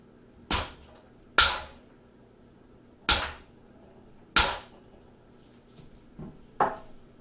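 A tool is struck hard against an Allen key to loosen a bolt on RockShox suspension fork lowers, making five sharp, loud metallic hammer blows at irregular intervals, close up, followed by a fainter final tap.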